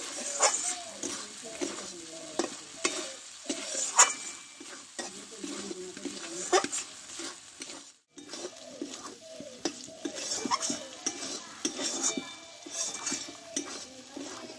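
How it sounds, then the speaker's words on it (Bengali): Potatoes with spice masala are stirred and fried in a pan, giving irregular scraping and clinking spoon strokes with soft sizzling beneath, while a person talks intermittently. "দিয়ে আলুটা মশলার সঙ্গে ভালোভাবে একটু আমি কষে নিব।"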